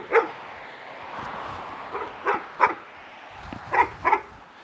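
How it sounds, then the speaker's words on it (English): A dog barks in several short, sharp bursts near a street, spaced irregularly over a steady outdoor background hum, without speech. "I gotta wait because the dog is there."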